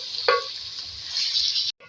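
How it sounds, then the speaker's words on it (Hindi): Chopped tinda, a round gourd, sizzles in hot oil in a pan, a steady bright frying hiss with a brief stir clatter early on, cutting off abruptly near the end. "पहले इसको फ्राई कर लें।"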